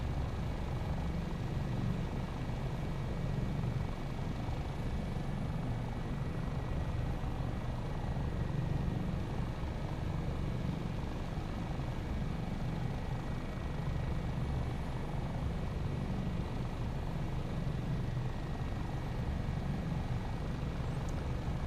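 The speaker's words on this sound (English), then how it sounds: "Must stop looking at other screens and just fly the helicopter." Continuous loud rotor and engine drone of an AS365 N2 Dauphin helicopter in flight, steady and close, filling the whole stretch without a break.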